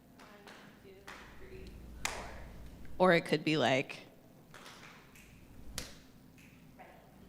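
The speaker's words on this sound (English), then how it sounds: "We can snap, we can tap, we can clap." A short burst of improvised rhythmic snapping, tapping and clapping from a group, about a second long, loud against a quiet room, with a voice speaking before and after it.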